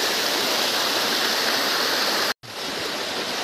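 Fresh water rushing over slippery rocks in a stream, a loud, continuous broadband roar that cuts out briefly near the end and then resumes.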